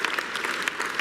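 Steady audience applause at a business event honoring Ginni Rometty, a dense rapid patter of many hands clapping, fairly close and without talk.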